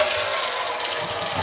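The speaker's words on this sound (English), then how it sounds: "I'm going to just stick also the big catch pan in there and fill it up with water" Water runs steadily from a tap into the large catch pan of a Weber Lumin electric grill, a continuous close splashing rush.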